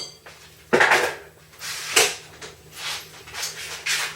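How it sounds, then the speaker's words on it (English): A flexible silicone spatula scrapes around the sides of a mixing bowl of runny New York-style cheesecake batter, giving several short, soft scraping strokes at an irregular rhythm with small clacks against the bowl, close and fairly quiet. "I can give the bowl a good scraping on all sides"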